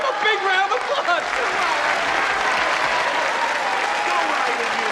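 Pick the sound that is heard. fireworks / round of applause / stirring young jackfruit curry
round of applause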